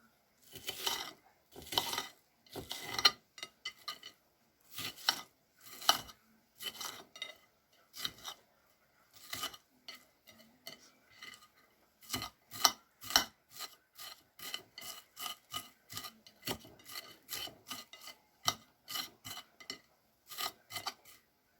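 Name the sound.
knife cutting onions for beef-broccoli casserole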